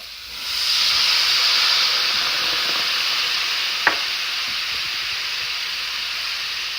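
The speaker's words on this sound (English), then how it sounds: "And we're going to deglaze the pan." Brandy and white wine poured into a hot sauté pan to deglaze it, bursting into a loud, steady steam hiss and sizzle that swells within a second, then fades slowly, with one brief clink of a utensil midway.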